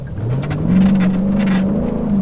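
A Mercedes SLK 55 AMG in sport mode accelerates hard, its engine note climbing and holding a loud, steady growl close by with no talk over it.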